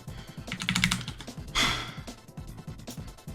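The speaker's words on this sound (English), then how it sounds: "I should probably start typing these things in." Quick typing on a computer keyboard, a close rapid clatter of keystrokes with a brief breathy sigh partway through.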